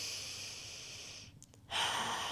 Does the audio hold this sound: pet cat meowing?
no